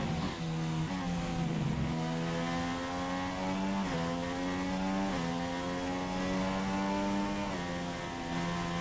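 Engine of a Formula 1 car in the F1 2016 video game at Bahrain, a loud continuous high-revving whine with several quick gear shifts dropping and climbing the pitch, no talk over it.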